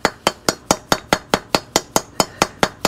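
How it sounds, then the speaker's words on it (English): Axle bearing being hammered into the wheel hub of a Northern Tool/Harbor Freight motorcycle, about a dozen sharp metallic strikes in a steady, even rhythm, loud and close with no talk. "then just start hammering the heck out of it"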